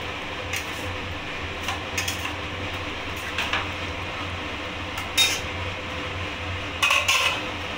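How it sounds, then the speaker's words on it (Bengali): A pan of kundru (ivy gourd) is stirred and then covered with its lid, soft continuous cooking noise punctuated by several light metallic clinks and scrapes of utensil and lid against the pan. "এবার ভালো করে নাড়িয়ে এবার ঢাকাটা দিয়ে 5 মিনিটের জন্য ঢেকে দেবো।"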